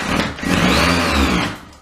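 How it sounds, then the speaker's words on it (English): A hammer drill whirs steadily and loudly close by, drilling into a ceiling to mount a 1x4 ft LED panel light, its motor pitch rising then easing as it bores into material, with no talking. "I'm just gonna stick that there and drill her in."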